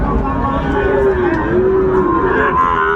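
A cow lets out a long, loud moo close by at a cattle market with Sahiwal cattle, with faint background murmur beneath it.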